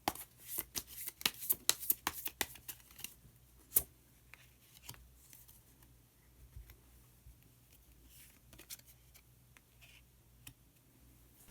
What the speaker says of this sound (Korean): 마지막으로 마법사 카드 한 장 더 뽑아보도록 하겠습니다